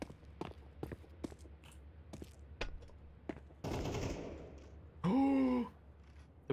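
Video game gunfire crackles in sharp, separate shots at first, then becomes a dense noisy burst, followed by a loud tonal in-game sound effect and a few more distant shots.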